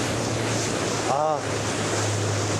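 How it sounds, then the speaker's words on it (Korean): Waves break against a ship on the cold Arctic sea near Murmansk, heard as a constant rushing wash with heavy wind buffeting the microphone, loud and close, and a person briefly exclaims. "부서지는 파도가 제 얼굴을 때립니다"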